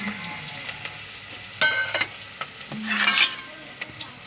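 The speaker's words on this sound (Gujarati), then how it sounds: "શાક વઘારવાનું ચાલુ કરી દીધું છે. જેમાં લસણ ને ડુંગળી નાખી વેળી પહેલાં." Garlic and onion sizzle in hot oil in a pan while being stirred for a Gujarati kantola vegetable dish, with a steady frying hiss broken by scraping stirs and a louder burst near the end.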